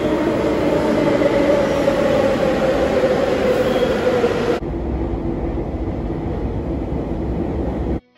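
Delhi metro train pulling into a station, a loud steady rumble and rushing roar that drops to a lower hum partway through before cutting off, with no talk.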